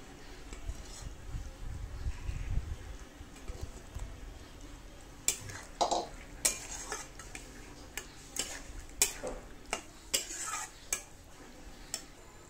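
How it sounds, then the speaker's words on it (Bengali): A utensil stirs a pot of prawn curry with pumpkin and potato, giving soft, irregular clinks and scrapes that grow more frequent in the second half over a quiet background. "কুমড়ো আলু সেদ্ধ হয়ে গেছে, এখন চিংড়ি মাছ দিয়ে দেবো।"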